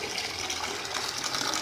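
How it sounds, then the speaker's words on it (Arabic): Water pours steadily into a cleaning mixture of vinegar and Persil gel, giving a continuous rushing gush at moderate volume with no voices. "هزود طبعا الخليط ده ميه"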